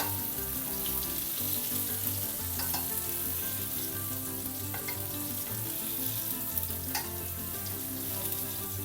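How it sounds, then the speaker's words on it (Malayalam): Tomatoes fry in oil with a continuous, close sizzle and scattered sharp crackles and pops, running steadily throughout with no talk. "ഫ്രൈ ചെയ്തെടുക്കേ. നമ്മൾ തക്കാളി ഒന്ന് തിരിച്ചിട്ട് കൊടുക്കേ."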